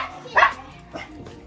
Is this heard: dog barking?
yes